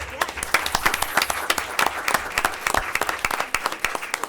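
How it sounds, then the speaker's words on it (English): Attendees at a Board of Education meeting applaud a retiree in a lively, crisp round of clapping from a crowd, steady throughout with distinct sharp hand strikes close by. "Let's also give her a round of applause, everyone"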